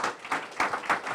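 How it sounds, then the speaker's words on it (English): An audience applauds at a lecture hall author talk, the clapping coming in dense rolling bursts of many hands at moderate loudness, with no voices over it. "give him a round of applause"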